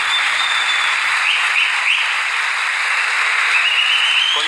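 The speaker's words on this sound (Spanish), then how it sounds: "lo recibimos con un fuerte aplauso." Sustained audience applause welcomes an economist onto the stage at a seminar in Argentina, a steady even wash of clapping with no talk over it.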